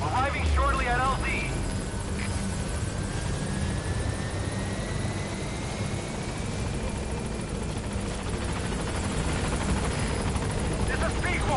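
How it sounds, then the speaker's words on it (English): A helicopter in Metal Gear Solid V arrives at a landing zone, its rotor drone loud and constant throughout, with game radio chatter and talking layered over it. "Je veux bien appeler l'hélico"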